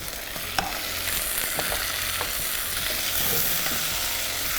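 Two finely sliced tomatoes drop into translucent onions frying in hot oil for a Pakistani dish, giving a steady loud sizzle with stirring scrapes and a few sharp clinks, no voices.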